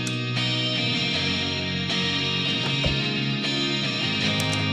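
Sustained electric guitar chords played through a reverb pedal wash out in a lush, spacious reverb tail, with new strums blooming every second or so over the lingering ring.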